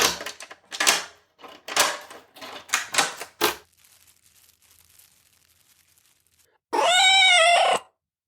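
A loud, drawn-out cat meow near the end, coming after a run of soft rustling and tapping and a quiet pause.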